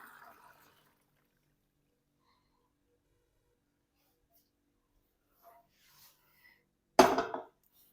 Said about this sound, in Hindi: बाकी पानी को मैं छान लूँगा। मैंने एक छाननी लिया, उसके नीचे डब्बा रखा है,